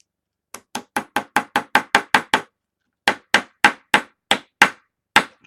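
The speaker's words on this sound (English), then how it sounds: "Okay, sorry about the hammering." Jewelry hammer driving staples into a canvas, sharp close strikes in a quick run of about ten even blows, a short pause, then a slower series of hits, with no talk.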